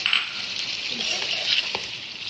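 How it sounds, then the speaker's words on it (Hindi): Dry mutton roast releasing oil in a pan as lemon juice is added, giving a steady bright sizzle with a faint clink, close and continuous, with no talking. "अब हम इसके अंदर नींबू डालेंगे जो हमने करके रखे थे"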